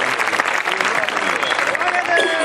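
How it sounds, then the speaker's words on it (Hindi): Audience applause for the poet Pandit Sunil Vyas at a Hindi kavi sammelan in Nimbahera, a dense steady clapping from a crowd that holds loud throughout. "एक बार जोरदार तालियां पंडित सुनील व्यास की।"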